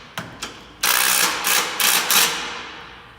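A ratchet tightens the exhaust bolts on a 2017 Ford Mustang: two sharp taps, then four close bursts of rapid ratcheting clicks that fade out at the end, with no voices.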